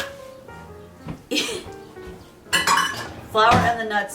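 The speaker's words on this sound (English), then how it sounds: "This is just mix it kind of carefully and make sure it's totally combined." Flour, nuts and butter are worked together in a bowl for a gluten-free shortbread crust under a Mississippi mud dessert. Intermittent utensil clinks and clatter mix with a cough and brief voices nearby.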